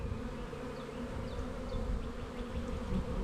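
Honey bees buzz steadily at an opened hive, a dense, continuous drone close by with no voices over it.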